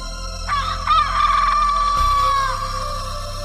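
A hen squawks in a loud, drawn-out cry, rising sharply then holding a strained shriek, as a fox seizes it in a children's story sound effect.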